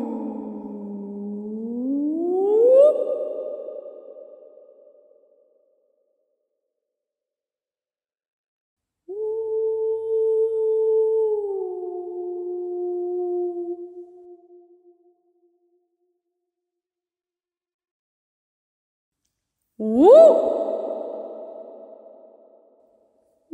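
A voice imitates three eerie ghost sounds, each a long, wavering, hooting moan that slides in pitch, separated by stretches of silence.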